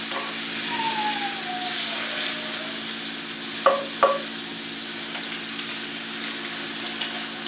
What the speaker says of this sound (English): when there's smoke, there's sizzle